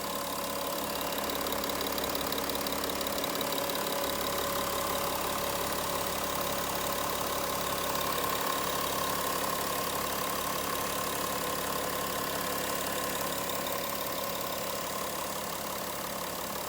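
A VW Touareg V6 TDI diesel engine idles steadily at close range, a smooth, even hum with a faint mechanical clatter running unbroken throughout, no voices.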